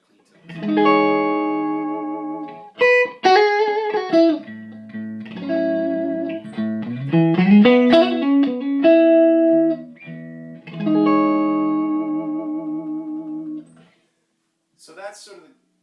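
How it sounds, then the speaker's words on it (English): A clean, undistorted electric guitar plays chords and melodic runs through a Genz Benz El Diablo 100C amplifier with light reverb, pausing briefly before a short final strum. "So that's sort of a nice kind of clean tone demonstration."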